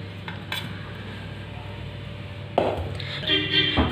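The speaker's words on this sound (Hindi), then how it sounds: "ये एक कढ़ाई रखेंगे और हम सबसे पहले थोड़े से तिल को भून लेंगे।" Sesame seeds dry roasting in an empty kadhai with no oil or ghee, a soft continuous sizzle and rustle with metallic scraping and clinks of a spoon against the pan, close and unaccompanied by talk.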